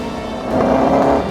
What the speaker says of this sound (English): Somewhere that's never echoed to the sound of its thunderous 3-litre straight-eight engine.